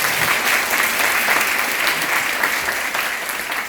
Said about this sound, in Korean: 우리 큰 박수 한번 부탁드립니다.